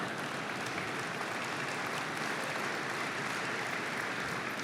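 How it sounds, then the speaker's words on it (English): Steady, dense audience applause from a large crowd at a shareholders' annual meeting fills the space, loud and continuous throughout, with no voices over it. "Do I hear my children applauding?"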